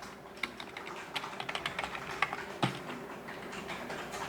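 Computer keyboard typing during data entry for a Korean accounting software exercise gives rapid, uneven clusters of close key clicks with occasional louder taps and no voice.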